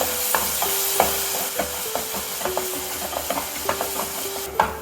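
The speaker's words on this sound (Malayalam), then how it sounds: "പച്ചമണം മാറുന്ന വരെ നന്നാക്കി ഇളക്കി കൊടുക്കണം." A spatula scrapes and stirs a tomato-based onion masala sautéing in a pan for vendakka pollichathu, with rhythmic close scraping strokes over a soft, continuous sizzle.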